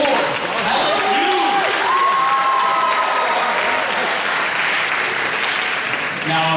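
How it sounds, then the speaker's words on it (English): A college culture-night audience applauds and cheers for an LSU performance, loud sustained clapping with whoops and shouting voices rising over it, fading slightly toward the end. "Give another round of applause for LSU"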